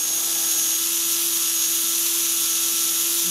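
Walkera 4G6 RC helicopter motor spinning at 25% throttle with no blades fitted, a steady, loud high-pitched electric whine with a constant tone and no other sounds.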